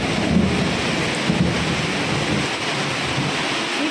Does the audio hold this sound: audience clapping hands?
no